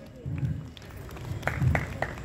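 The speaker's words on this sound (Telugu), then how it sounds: "Very less people are clapping." Scattered, sparse hand clapping from an audience at a Christmas church gathering, a few uneven claps over a low crowd murmur in a large room.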